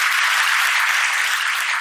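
A crowd applauds in a dense, steady wash of clapping that holds at an even level for nearly two seconds with no speech over it.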